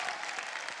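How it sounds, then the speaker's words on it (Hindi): Dense, steady applause from a live audience, broadband clapping at even loudness throughout with no voices over it. "एक बार जोरदार तालियां हो जाए।"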